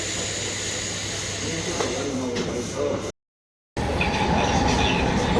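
A local train at Virar station in the early morning makes a steady, loud rumble and hiss, with a brief cut in the middle. Voices can be heard over the train noise.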